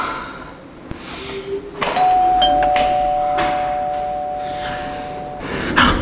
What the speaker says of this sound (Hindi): बेल बजा दी मैंने